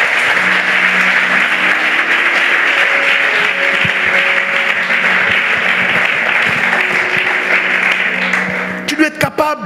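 A church congregation breaks into sustained applause, a dense wash of clapping mixed with cheers and voices that fades into a few scattered claps at the end.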